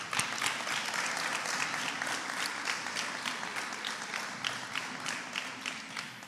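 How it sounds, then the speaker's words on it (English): An audience at a hackathon closing ceremony gives sustained applause, a dense wash of many hands clapping at moderate distance, steady and fairly soft throughout. "so a big round of applause to you."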